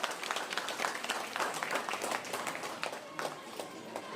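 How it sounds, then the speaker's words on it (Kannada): A school audience claps loudly for teachers at a government lower primary school event, a dense, steady patter of many hands that runs unbroken from start to finish with no voices over it. "ಅವರಿಗೆ ಜೋರಾದ ಚಪ್ಪಾಳೆಯನ್ನ ನೀವು ಕೊಟ್ಟು ಪ್ರೋತ್ಸಾಹಿಸಬೇಕು."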